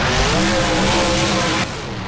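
Monster truck roaring and tumbling in BeamNG, a continuous loud engine drone with rough scraping as it flips and balances on one wheel, cutting to a quieter tone near the end.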